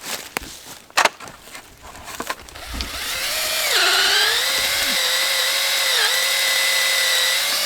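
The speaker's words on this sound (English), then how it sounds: "Go ahead and drill her." A power drill bores a tap hole into a maple tree outdoors in Kentucky, starting after a few footsteps and knocks and then running as a steady, loud whine for several seconds.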